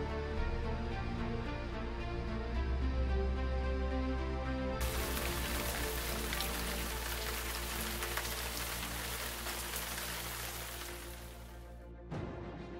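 Heavy rain pours down on a construction site where a float truck is offloading an excavator, a dense steady hiss over a constant low engine drone, with no voices.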